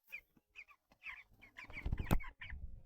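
Broiler chickens kept at home cluck softly while eating, several short, close calls coming in irregular bursts, with a louder flurry of clucks and pecking clatter near the middle.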